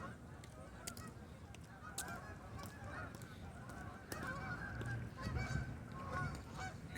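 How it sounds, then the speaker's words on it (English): Canada geese honk repeatedly outdoors at a distance, a scattered flock calling faintly over steady background noise, with no one speaking. "Canadian geese."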